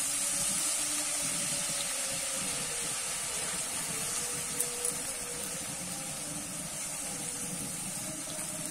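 Shredded potatoes fry in hot oil with a steady, dense hiss of bubbling that carries on without a break, close and fairly loud, with no voice over it.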